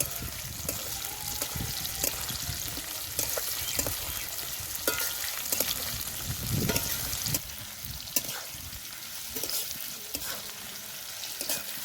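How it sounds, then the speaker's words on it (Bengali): Nearly boiled, soft potatoes with slit green chillies sautéing in a pan for a potato curry: steady close sizzle with intermittent scraping and stirring strokes, moderately loud, no voices. "আর দিয়ে দেবো চেরা কাঁচা লঙ্কা আর একটু কষে নেব আলুগুলো"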